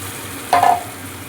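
Mustard paste is added to a hot pan for a spicy pomfret curry and stirred. A low background sizzle carries on throughout, broken once by a quick, close scrape of stirring.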